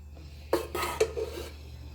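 A spoon scrapes and clinks against a dish while mixing macaroni with paprika, a few sharp knocks and rubbing strokes in a short burst, then quiet.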